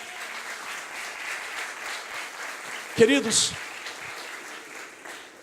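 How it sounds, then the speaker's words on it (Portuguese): A church congregation applauds steadily throughout, a dense wash of clapping under a preacher's voice, which briefly rises over it with a loud vocal burst partway through. "Aplaudam bem forte ao Senhor."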